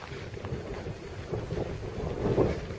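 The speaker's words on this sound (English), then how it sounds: "the wind is going to be pretty crazy." Strong wind gusting over an overnight bushcraft campsite with a sail-like tarp rigged nearby, a steady low roar and buffeting against the microphone that swells slightly toward the end, no voices.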